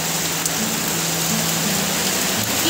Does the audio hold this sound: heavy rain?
yes